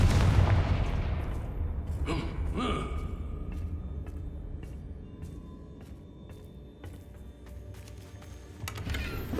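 Fiery Confringo blasting-spell explosions from the Hogwarts Legacy video game: a loud booming burst at the start, then several sharp detonations and crackling impacts over a dense, rumbling combat backdrop.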